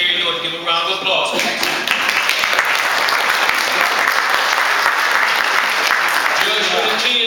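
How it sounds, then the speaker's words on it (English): Sustained audience applause fills a town hall meeting hall, a dense wash of many hands clapping loudly for about seven seconds, with a few voices murmuring underneath. "Give him a round of applause."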